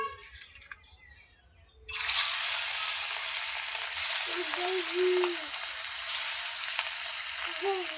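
Pieces of katla fish hit hot mustard oil and a loud sizzle erupts after a quiet moment, then holds as a steady close hiss with small pops and light stirring.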